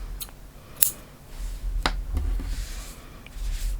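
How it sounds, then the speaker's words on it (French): Scissors snip through crochet yarn in a few sharp, close clicks, with a pause between cuts and no one talking. "On fait une maille en l'air et on va couper le fil."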